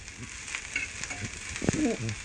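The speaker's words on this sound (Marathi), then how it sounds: "असा खोबरा जरा कांदा जरा लाल परतून घेते" Grated coconut and chopped onion fry in a pan for Konkani-style mutton masala, a soft steady sizzle with light stirring scrapes drifting in and out, close and fairly quiet.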